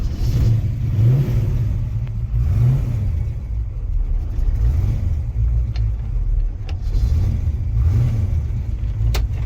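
A cold classic car engine idles and runs with a low steady rumble and mild surges, close and loud, with a few faint clicks over it and no talk.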